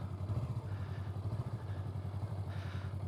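A motorcycle engine running with a little throttle while the clutch is held in the friction zone: a steady, close, low rumbling idle with an even pulsing beat that brightens slightly near the end.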